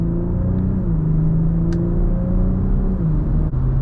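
A BMW G20 M340i xDrive with all-wheel drive pulls from inside the cabin, its engine a loud, steady low rumble that shifts pitch slightly as it accelerates.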